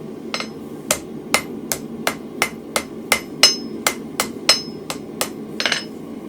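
Hot steel hammered flat on an anvil while forging a barbecue toasting fork, a steady run of sharp, loud, ringing blows at an even rhythm, close up with no talking.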